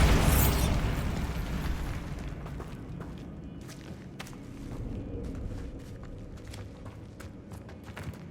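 A Bombarda blasting spell in Hogwarts Legacy goes off with a loud, close booming burst that rolls off into a long crumbling rumble, with scattered debris clicks and a few footsteps afterward.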